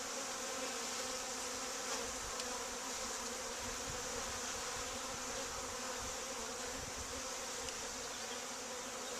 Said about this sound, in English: There's a good number of bees in here.